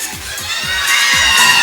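A studio audience at a live variety show cheers and shouts together, a dense, bright roar of many voices that grows slightly louder over a short burst.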